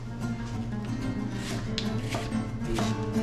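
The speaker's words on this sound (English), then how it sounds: "We're going to go ahead and continue with the onion. Again, I use rough rustic chops." A knife chops through an onion on a board in rough, rustic cuts, giving several soft, dull knocks that sit low under a steady background hum.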